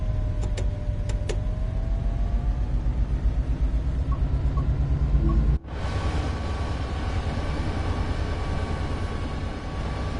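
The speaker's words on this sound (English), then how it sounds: "if you want a kind of rock and roll, blood and thunder, loud kind of locomotive, this is the one for you." A Metrolink F59PHR diesel locomotive in Train Sim World 5, a loud steady engine rumble and drone throughout, with a sharp break midway before the engine noise continues.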